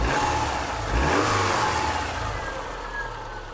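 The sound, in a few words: Subaru engine running rough and bogging down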